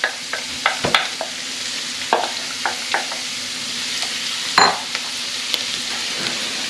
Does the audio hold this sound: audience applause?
no